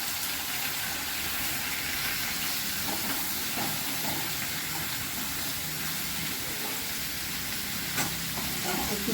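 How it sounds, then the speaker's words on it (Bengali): Mixed vegetables with cumin powder and green chillies are stirred and fried in a pan for a vegetable dal, a soft continuous sizzle broken by occasional scrapes and clinks of a utensil, fairly quiet and close. "ভালো করে কষিয়ে নিতে হবে"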